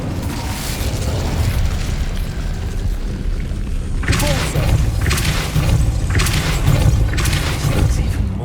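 In the video game Hogwarts Legacy, the Incendio fire spell bursts with loud whooshing flame surges over a constant rumbling game ambience.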